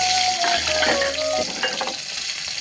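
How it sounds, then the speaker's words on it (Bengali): Onion hitting hot oil in a pan while cooking fresh spinach with prawns, giving a loud, steady frying sizzle with a few brief tones over it and no talk. "প্রথমে তেল দিয়ে দিলাম, তারপরে পেঁয়াজ"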